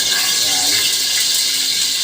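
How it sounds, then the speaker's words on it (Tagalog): Cooking oil poured into a hot kawali pan: a loud, steady, even hiss that runs unbroken for about two seconds, close by. "mainit na yung kawali, ilalagyan natin yung mantika"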